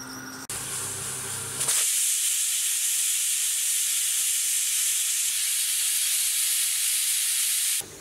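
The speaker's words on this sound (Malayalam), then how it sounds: "നമ്മൾ കുക്കറിൻ്റെ മൂടി വെച്ച് കൊടുത്തിട്ട് ഹൈ ഫ്ലെയിമിൽ കറക്റ്റ് ഒരു വിസിൽ വരുത്താം" Pressure cooker on high flame letting out a loud, continuous steam whistle, a sharp sustained hiss that starts abruptly and holds steady for several seconds before cutting off, close and alone.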